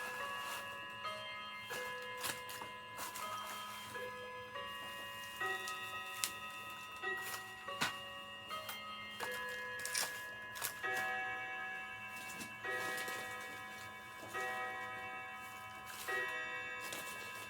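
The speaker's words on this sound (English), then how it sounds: "There's the old clock on the wall." An old wall clock ticks at a steady rhythm through a busy room, with scattered clinks and bright metallic tones layered over it and no talking.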